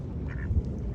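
A tan and white duck gives a faint, brief quack at a windy lake. The call is half buried under a steady rush of wind.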